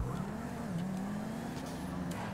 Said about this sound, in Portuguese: Tô acelerando esse carro igual um doido